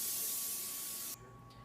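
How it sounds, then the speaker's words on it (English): Nonstick cooking spray misted onto muffin tins over a sink, a single steady close hiss lasting about a second before cutting off. "spray your muffin tins with nonstick cooking spray"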